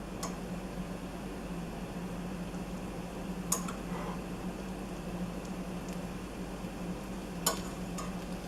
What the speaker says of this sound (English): Once oil is hot, crack eggs in the pan, cover and fry eggs to preference.